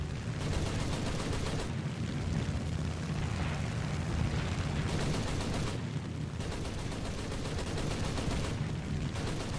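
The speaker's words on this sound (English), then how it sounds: "I take some long-range shots, draining the rest of my cannon ammunition" Cannon fire from an A6M2 Zero fighter in a video game, long bursts of rapid, dense gunfire with short pauses between them, loud and continuous.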